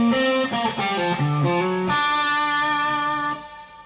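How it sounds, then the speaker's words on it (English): Electric guitar with a distorted, effects-laden tone plays a blues turnaround lick in G, a quick run of sliding and bent single notes that resolves into a sustained ringing final note, loud and close with no talk. "So the whole turnaround licks sound like this."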